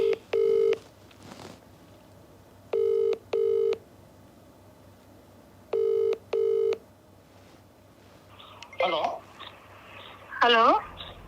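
A phone call ringing out over a Telugu legal talk show, with paired ring bursts repeating three times in steady rhythm, clear and fairly loud, followed by people talking.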